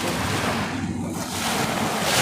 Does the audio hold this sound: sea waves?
yes